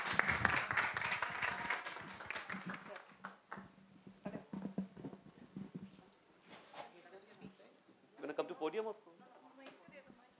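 A seated audience applauds to welcome the Minister of State for Information and Broadcasting at a panel on women in cinema. The dense clapping is loudest at the start, then thins into scattered claps under spoken voices.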